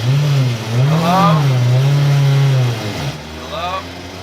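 A loud car engine revs while driving, rising and falling in long surging pulls with a brief dip near the end before climbing again, close and dominant.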